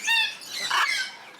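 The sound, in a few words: macaw squawking at bird sanctuary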